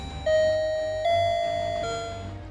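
A bell chimes as a signal for the next round in an election exit poll broadcast: two clear, ringing ding-dong tones struck in quick succession, each sustaining and slowly fading, loud and close with no speech.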